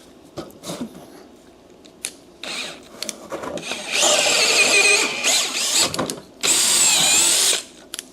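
A power drill boring two 15/16-inch holes in a home shop bursts on loud and close in two long runs, preceded by clunks and handling noises from the work setup.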